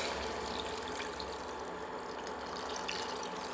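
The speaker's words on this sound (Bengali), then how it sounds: "এবার আমি জল দিয়ে দিচ্ছি।" Water pours steadily into fish curry with potatoes and drumsticks in a pan on an induction cooker, a continuous close splashing rush with no voices.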